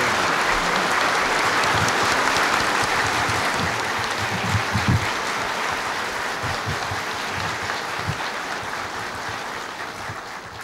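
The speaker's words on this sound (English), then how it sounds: "Now let us greet Mr. President's speech with a warm applause." A large audience at Fudan University gives warm, sustained applause welcoming President Reagan's speech: a thick, continuous wash of clapping that stays loud and full for the whole stretch, easing slightly toward the end.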